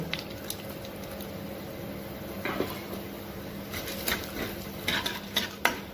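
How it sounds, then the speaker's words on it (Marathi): Lentils being roasted in oil in a pan and stirred, a continuous low sizzle with scattered scraping and clinking of a spoon against metal, close and moderately loud. "त्याच्यात आपल्याला डाळ पहिली भाजून घ्यायची डाळ चांगली तांबूस होईपर्यंत भाजायची"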